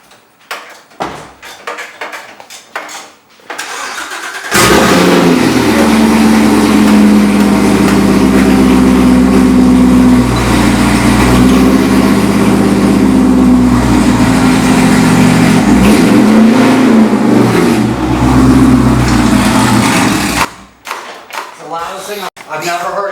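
A car engine roars loudly and steadily up close for about fifteen seconds, with brief talk and clatter before and after.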